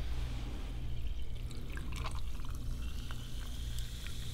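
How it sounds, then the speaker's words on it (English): Sparkling Vero water poured into a spritzer glass over pear and lemongrass syrup gives a soft, steady fizzing pour with faint crackles of bubbles, quiet and close for a few seconds. "And then we got our fine bubbles Vero water."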